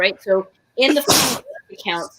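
A person sneezes once, loud and abrupt, in the middle of ongoing speech, with talking before and after it.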